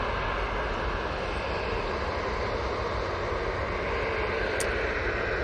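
A Ryanair airliner at Manchester Airport fills the air with a steady, fairly loud jet engine roar that holds unbroken throughout, with no voices.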